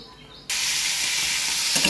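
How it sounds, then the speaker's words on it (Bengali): Onion frying in a pan for a pomfret fish curry bursts into a loud, steady sizzle about halfway in after a quieter start, continuing evenly to the end. "এই দেখো পেঁয়াজটা প্রায় ভাজা হয়ে গেছে"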